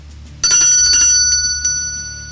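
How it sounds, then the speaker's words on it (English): Salvation Army hand bell ringing, loud and close, with a bright metallic strike followed by a second shake and a long ringing decay. "That's the sound of a Salvation Army bell."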